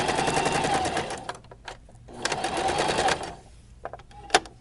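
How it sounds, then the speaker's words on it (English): A sewing machine backstitches through fabric in two bursts of rapid, steady needle rattle, close and fairly loud, separated by pauses with a few soft clicks from handling the material. "you don't want to forget to backstitch,"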